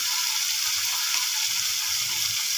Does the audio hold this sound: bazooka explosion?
no